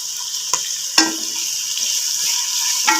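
Onions frying with rock salt in a pan for a chickpea and potato pulao, a steady bright sizzle throughout with a few sharp stirring clicks near the start and end.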